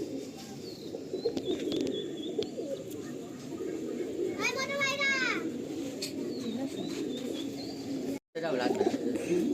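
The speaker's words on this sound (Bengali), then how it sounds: "এটা পালসার জেনারেশন পায়রা, তাই তো?" Pulsar generation pigeons in a loft coo steadily in low murmurs, with a brief higher chirping run near the middle and some background chatter throughout.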